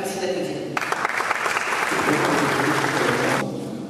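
An audience at a conference session claps, with dense, sustained applause that starts suddenly, holds for about three seconds and then stops, with room noise before and after.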